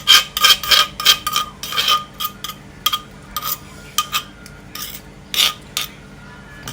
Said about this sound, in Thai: ขูดให้หมดค่ะขูดให้หมด ความอร่อยอยู่ก้นโคก